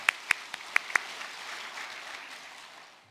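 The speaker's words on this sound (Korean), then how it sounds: "우리 박수로 한번 시하도록 하겠습니다." A church congregation at an Easter Sunday service applauds the choir, organ accompaniment and orchestral winds and strings. A few sharp claps open it, then a steady wash of crowd clapping that slowly fades.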